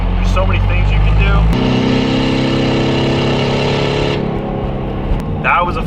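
Loud engine of a VW TDI diesel car with RS wheels pulling hard under acceleration, a steady droning roar that climbs and then eases off near the end, continuous throughout.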